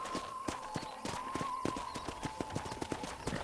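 Steady clip-clop of horse hooves at a walking pace in Red Dead Redemption, close and even, with a faint tonal hum running underneath.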